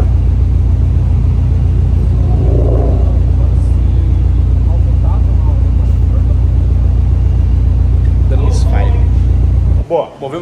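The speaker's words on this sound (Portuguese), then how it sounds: "Temos um problema de misfire, ou seja, uma falha de faísca no motor." A car engine with a spark misfire idles steadily under a low, continuous rumble for about ten seconds, then cuts out near the end; faint background noise accompanies it.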